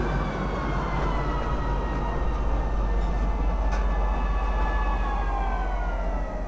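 Inside the Star Citizen video game, a metro train arrives at a station in Lorville with a loud, steady rumble and a high, drawn-out whine that slowly falls in pitch as it brakes, with no talking over it.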